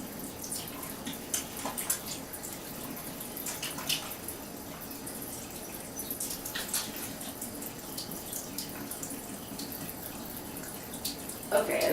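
Tap water runs steadily at moderate distance while a face product is rinsed off, with soft splashing and occasional hand movements in the stream throughout.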